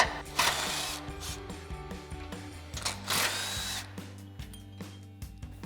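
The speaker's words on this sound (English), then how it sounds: "we're gonna start with our 18 mil socket on our impact and go ahead and run these off" An impact wrench with an 18 mm socket runs bolts off the tow hooks of a 2021-2023 Ford Bronco in a garage, giving short rattling bursts with ratcheting hammer pulses and pauses between them, moderately quiet.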